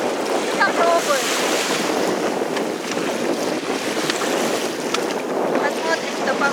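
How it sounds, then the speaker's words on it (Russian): Sea waves wash and surge against the shore on a windy day at the beach, with a steady rush of surf and gusting wind buffeting the microphone. "Хотя, конечно, сегодня такие волны."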